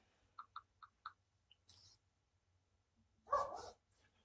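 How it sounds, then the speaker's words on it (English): A dog named Skip barks outside, four quick faint yaps in a row followed by a louder, longer bark after a pause, distant and alone in a quiet room. "I hear Skip outside barking"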